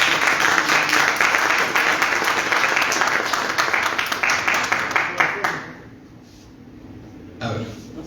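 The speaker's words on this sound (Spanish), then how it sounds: "Un fuerte aplauso para él." A crowd at an award presentation during a panel discussion in Arequipa, Peru, claps and applauds loudly for several seconds, then the clapping fades out, leaving a quiet room with a brief noise near the end.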